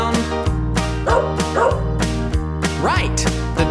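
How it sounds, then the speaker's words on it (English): Several dogs bark in quick, repeated yaps over a steady backing melody, the bursts loud and close with a few yips and whimpers mixed in. "Right, the dogs go as they chase and tease the cats."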